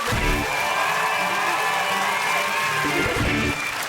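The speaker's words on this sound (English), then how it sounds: "a round of applause for James, John and Brendan" A studio audience at a comedy quiz show applauds and cheers for the contestants, a loud, dense wash of clapping with whoops that holds steady before fading near the end.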